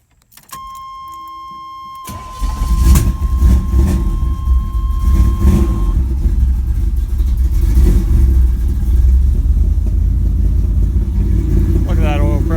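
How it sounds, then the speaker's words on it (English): A third-gen Camaro with an Ott Motorsports 383 engine starts up after a brief electronic chime, then settles into a loud, close, deep rumbling exhaust idle with occasional surges. "I think I'm just going to sit in here and listen to the exhaust."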